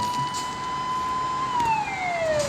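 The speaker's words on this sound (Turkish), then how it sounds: "Hani sireni koyunca ne olacak?" A police car siren wails in the Euro Truck Simulator game, a steady tone that then drops in pitch, loud and continuous with no talk.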